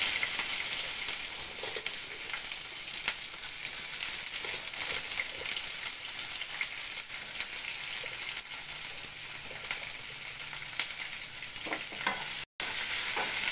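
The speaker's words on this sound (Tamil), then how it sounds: "எல்லாம் இப்ப ராகியை தாளிக்கிறேன்." Continuous sizzling and frying as ragi is tempered in a hot pan, with occasional stirring and scraping sounds, close up and steady.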